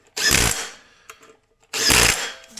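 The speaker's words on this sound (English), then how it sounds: "Okay, I got the torque wrench ready." A torque wrench tightening the rear sprocket bolts on a 2024 Triumph Street Triple motorcycle, heard as two loud, harsh mechanical bursts about a second and a half apart, with faint clicks in between.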